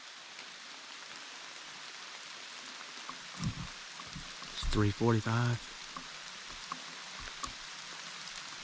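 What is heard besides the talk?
rain falling harder outdoors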